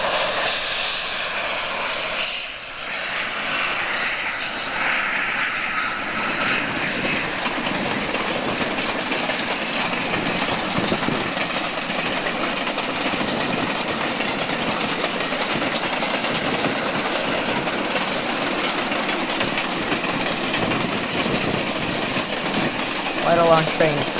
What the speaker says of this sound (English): long train